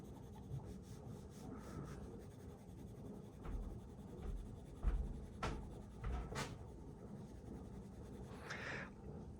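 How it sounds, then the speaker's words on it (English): A pencil scratches and rubs across paper with firm pressure while shading, a soft, continuous close scraping with a few brief louder strokes. "I'm going to press some more, apply some more pressure onto the pencil here."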